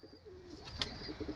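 Large old-line flying pigeons, including a female, coo softly in a low, faint murmur, with a brief brighter chirp in the middle of the short stretch.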